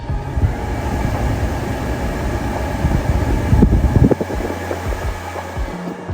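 Car air conditioning blowing at full power, a steady broadband rush of air with low mechanical rumble and a few faint clicks, with no talking.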